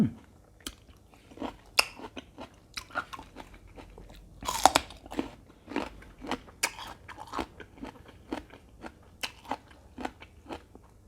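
Crunchy, wet chewing of a spicy Thai carrot salad with fresh shrimp and stink beans, heard up close as a steady run of sharp crunches and bites with brief pauses between mouthfuls.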